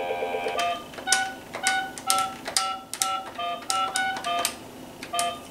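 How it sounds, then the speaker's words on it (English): A child's toy learning telephone being dialed, a steady run of separate electronic key tones sounding one after another, each a short clear beep, close and loud with no talking. "she dials it herself"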